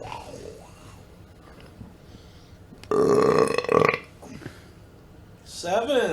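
A loud, throaty burp bursts out mid-conversation, rough and sustained for about a second, then a shorter second belch follows near the end, with quiet talk and background sounds between.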